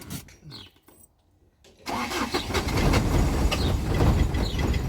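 After a few soft clicks and a near-silent pause, a worn-out car engine cranks and catches, settling into a loud, steady rumbling idle close by.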